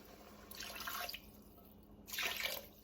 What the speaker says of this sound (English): So I'm gonna pour this in a can just to get all the goodness out.